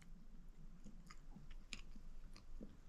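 Someone chewing a milky sweet bean-paste manju, with soft close mouth sounds and a few crisp bites spaced through a quiet room.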